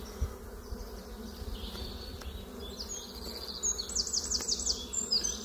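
A honeybee swarm buzzes at the hive, a dense continuous drone from many bees with individual close passes flitting by, steady and moderately loud with no talking.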